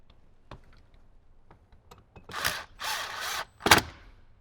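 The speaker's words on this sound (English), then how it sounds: "So I'm going to start by putting in the 3 screws below the glove box." Short bursts of a cordless driver running screws beneath the glove box of a 2018–2023 Jeep Wrangler JL, three separate whirring runs close by, the last sharper, with quiet handling clicks between and no talk.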